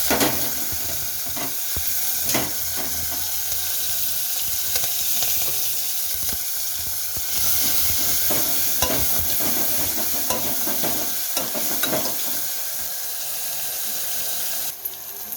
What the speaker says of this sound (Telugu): ఇట్లా కొంచెం ఎర్రగా అయిన తర్వాత పచ్చిమిర్చి, కరివేపాకు వేసుకోవాలి